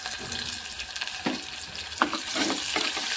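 Onions frying in a pan for pappu charu, giving a soft continuous sizzle broken by a few scraping stirs, close and fairly quiet, with no talking.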